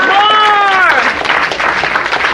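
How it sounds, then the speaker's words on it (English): An audience at a lecture by a general applauds, dense clapping and crowd noise filling the whole stretch while a voice with sustained pitched tones rides over the first second. "Stand up and give a man a round of applause, man."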